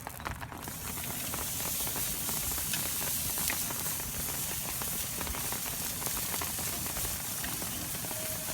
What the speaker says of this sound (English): looks like the grill has hit the perfect temperature, so now we're gonna start cooking the T-bone steaks